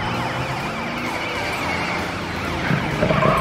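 A wailing police car siren in a children's cartoon sweeps up and down continuously, loud and close, with a rumble of traffic underneath and a few sharper tones near the end.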